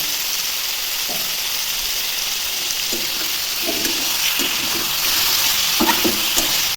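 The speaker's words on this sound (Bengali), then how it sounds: "এবার মাংস দিয়ে আর ভালো করে ভেজে নেব। 1 চামচ হলুদ দিয়ে দিলাম আর মাংসটা ভালো করে ভেজে নেব।" Chicken pieces sizzle in a pan with fried onion and a spoonful of turmeric, a loud, continuous hiss with occasional stirring scrapes and knocks; no speech.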